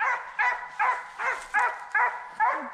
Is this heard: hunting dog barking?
yes